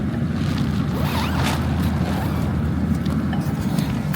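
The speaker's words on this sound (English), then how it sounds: "Got this handy dandy zipper on here" A long, rough zipping sound of a tunnel tent zipper opening under steady low rumbling background noise, with a few scratchy pulls partway through.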